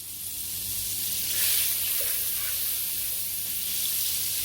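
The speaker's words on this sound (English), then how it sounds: "So I have my saucepan on the fire and I'm now gonna add the butter" Butter melting in a saucepan on the stove, a steady loud hiss of sizzling that swells slightly midway, with no talk.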